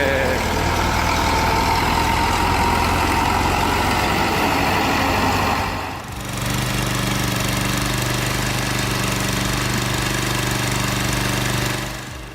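A logging truck's heavy diesel engine drives through dense forest. It gives a loud, steady, close rumbling drone that dips briefly about halfway and then returns just as strong.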